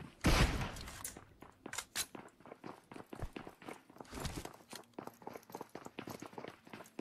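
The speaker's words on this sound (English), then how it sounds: "That's more footsteps." Rapid footsteps in a video game tap out an irregular, busy rhythm of close, crisp steps, opening with a louder thump and continuing steadily without talk.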